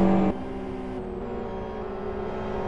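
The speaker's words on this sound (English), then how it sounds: "See, so many cars are still running." A GT1 World Series race car engine drones on track, dropping in pitch as it shifts and then building again, a steady mid-distance whine with no voices.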